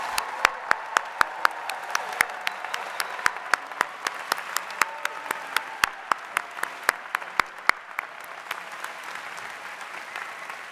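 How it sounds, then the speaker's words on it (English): The audience at the University of Michigan Rackham Graduate Exercises 2025 applauds doctoral graduates, a steady wash of many hands clapping with sharper individual claps standing out, sustained and fairly even before gradually thinning toward the end. "Let's give our doctoral graduates one more round of applause."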